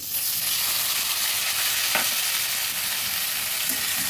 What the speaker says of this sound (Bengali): এবার হালকা ভেজে নেব